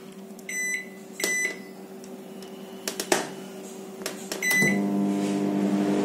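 Microwave oven cooking vermicelli upma, with a few short electronic beeps and clicks at the start, then a steady low running hum that grows louder near the end.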